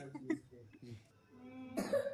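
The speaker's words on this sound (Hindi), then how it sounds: "खांसी आ रही है" A brief cough bursts out near the end after a few soft murmured sounds, close and fairly loud.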